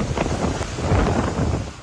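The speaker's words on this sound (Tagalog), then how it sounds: "may kasabay na malakas na ulan ang hampas ng mga alon" Heavy rain and strong wind drive waves crashing on the shore during a storm in the Philippines, a loud, steady roar of broadband wind and surf with no pauses.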